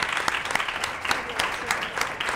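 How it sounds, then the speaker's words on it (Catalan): A studio audience at a Catalan TV word-game show claps together, a dense even burst of applause sustained at moderate volume for the whole stretch. "No passa res, aplaudiment."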